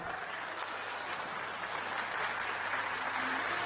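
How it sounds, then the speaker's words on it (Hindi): Audience applause at a Hindi poetry recital and speech by Kumar Vishwas, a steady wash of clapping from a large crowd that holds evenly throughout with no speech over it. "आपकी तालियां कम है इसलिए सुनाने का मन नहीं कर रहा।"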